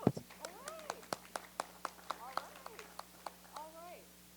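Scattered claps at a disaster-recovery workshop, a dozen or so sharp isolated hand claps spaced irregularly, with a voice talking over them and a steady background hum.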